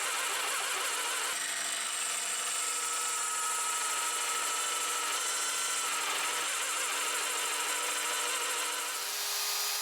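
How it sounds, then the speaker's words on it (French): A drill press bores holes into a guitar body, giving a steady, fairly loud whine that runs continuously with a brief shift in tone partway through, with no talking. "Je le fais à la perceuse à colonne pour que ça soit plus propre et plus droit"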